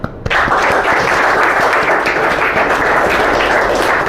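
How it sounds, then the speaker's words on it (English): Students applaud together in a classroom, a dense, steady burst of many hands clapping that starts abruptly and carries on loudly without a break. "So let us applaud ourselves."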